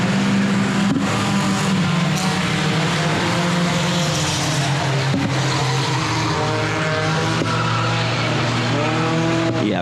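Four-cylinder race cars roar through the opening lap of an A-main event at Lonestar Speedway. The engine drone is loud and continuous, with rising and falling pitch sweeps as several cars pass close by.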